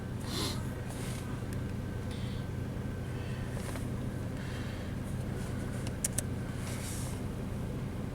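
An Isuzu Rodeo engine idles steadily and evenly, a low continuous hum with a few faint clicks and light background noise, no voices over it.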